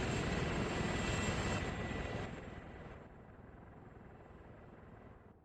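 Apache helicopter flying nearby during a field training exercise, a loud steady rotor roar and turbine whine that fades as it moves away.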